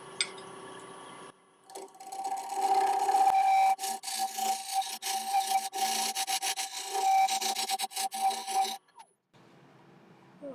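A quarter-inch parting tool cuts into an elm bowl spinning on a wood lathe, giving a close, sustained scraping whine with a steady tonal hum, broken by brief pauses and tool repositioning, then stopping near the end.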